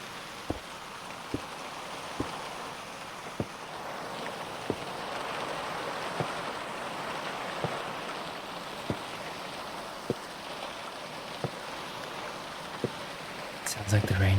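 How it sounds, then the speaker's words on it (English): Heavy rain pours in a steady, dense hiss, with sharp drips or taps landing at irregular intervals about once a second, ending in a brief louder clatter. "Sounds like the rain just got quite heavy."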